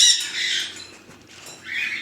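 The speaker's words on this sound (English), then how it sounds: "Oh, this is a pretty cockatoo." A cockatoo at a bird rescue gives loud, harsh squawks, one burst at the start, another around the middle and a third at the end, close and with no talking.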